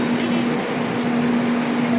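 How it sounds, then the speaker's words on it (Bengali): A metro train pulls into an underground station with a loud, steady rumble and a sustained high whine from the wheels and motors, filling the space evenly from start to finish. "এসে গেছে আমাদের মেট্রো আমরা লাস্ট বগিতে উঠতে বলেছে"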